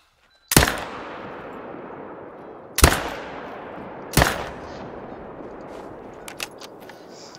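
Three sharp rifle shots ring out in the hunting video game Hunter Call of the Wild while bison are hunted, each a loud crack with a long echoing tail, spaced a couple of seconds apart.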